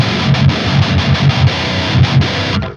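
Heavily distorted electric guitar played through the Toneforge Disruptor Protomech amp plugin, a loud chugging palm-muted rhythm with sharp gaps between chords that cuts off cleanly at the end.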